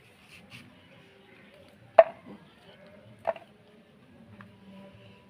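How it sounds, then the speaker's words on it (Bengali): A knife chops taro plant roots on a board: two sharp, distinct chops with a few softer taps in between, quiet and close against near silence. "কচু শাকের মূলগুলো পিসি কুটে দিচ্ছে"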